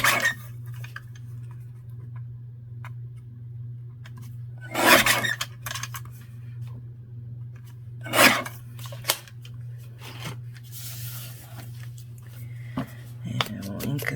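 Scissors snipping out an embellishment from a woodland steampunk kit, two distinct cuts a few seconds apart plus lighter paper rustles and handling noise, close under a low background hum.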